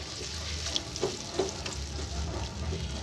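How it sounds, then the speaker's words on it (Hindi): Fish kofta curry masala frying with whisked yogurt in a pan, giving a steady soft sizzle and a couple of faint stirring scrapes, close and low in level. "अब दही के साथ इसको मैं भून लूँगी।"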